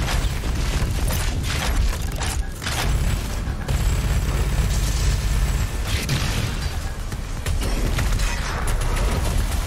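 Loud, dense Doom Eternal combat with a lobbed grenade blast among rattling mechanical weapon noise and bursts of fire, continuous and close throughout.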